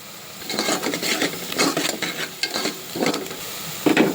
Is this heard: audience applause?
no